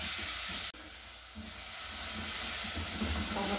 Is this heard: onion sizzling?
yes